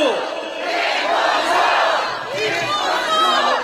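A large crowd at an outdoor campaign rally in Bucheon shouts and cheers in loud, surging waves, a chant swelling and falling across the whole stretch.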